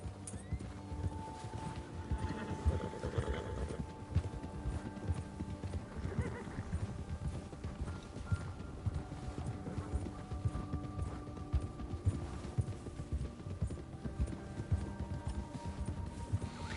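A horse gallops in Red Dead Redemption 2, rhythmic hoofbeats pounding steadily throughout at moderate volume, with an occasional whinny and low game ambience beneath.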